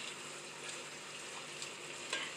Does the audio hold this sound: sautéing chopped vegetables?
yes